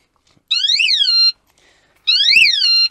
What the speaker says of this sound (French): j'ai fait installer une alarme